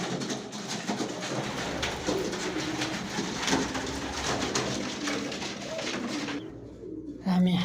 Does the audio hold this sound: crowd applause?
no